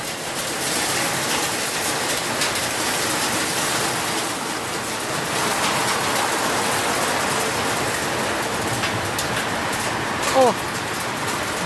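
Steady, dense hiss of heavy rain pouring down throughout, with a voice briefly audible near the end.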